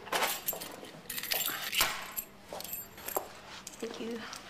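A set of office keys jangles in bright metallic clinks and rattles, close up and in uneven bursts, with some soft handling noise.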